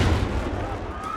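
A bomb drops in Call of Duty: Modern Warfare (2019), a single deep, heavy boom followed by a short, fading rumble.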